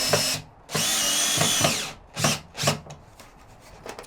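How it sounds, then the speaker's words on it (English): A power drill drives screws into pre-cut wood in several close, loud whirring bursts of varying length, separated by short pauses, with no talking. "I can start to put some screws in here."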